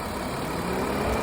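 A 2002 Ford Escape with a 3.0-liter engine idles low with a lean condition, giving a steady, even engine drone with no talk over it.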